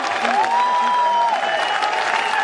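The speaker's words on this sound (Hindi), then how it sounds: "ये तालियों की गड़गड़ाहट" Sustained applause from an audience at a corporate event awaiting the company CEO and MD, a dense even roar of clapping with background music or tones and little speech.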